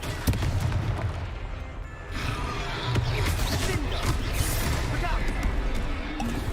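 Confringo fire-spell blasts in Hogwarts Legacy combat, a run of loud booming bursts and crackling impacts layered over steady battle noise, with voices speaking over it.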